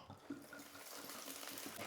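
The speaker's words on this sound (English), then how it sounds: "Blue curacao, please pour." Blue curaçao is poured over ice while a cocktail is being mixed, a steady, quiet trickling splash of liquid lasting about two seconds, with no talking.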